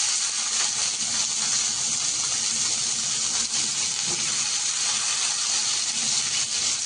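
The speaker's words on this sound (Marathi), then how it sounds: "आता आपण याच्यामध्ये कांदा टाकून घेऊ." Chopped onion goes into hot oil in a pan with toasted dals. It gives a steady, even sizzle and hiss that holds at constant loudness throughout, close and unbroken, with no talking.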